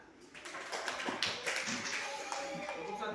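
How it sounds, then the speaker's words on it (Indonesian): Students in a classroom clap for a group that scored 100 in a civics lesson, a quick dense patter of close hand claps running throughout the short stretch with some voices underneath. "Coba kita tepuk tangan."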